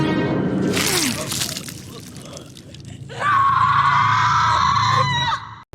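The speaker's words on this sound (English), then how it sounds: "the teaser ends with Julie screaming" Julie screaming in the final scene of a TV teaser, a long loud high-pitched scream rising strongly after a crashing, shattering burst and muffled gasps, close and intense over dramatic background noise.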